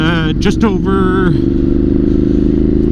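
Ducati Monster motorcycle being ridden: a steady, loud engine drone with road and wind rumble runs throughout, and someone talks over it in the first part.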